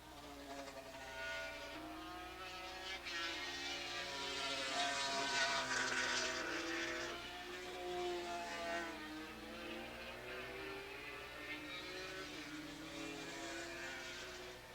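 Racing motorcycles in the 450 Super Street and Formula Singles classes howl around Willow Springs Raceway in 1987, a sustained engine wail that rises to a peak mid-pass and then fades slightly, carrying steadily at moderate distance.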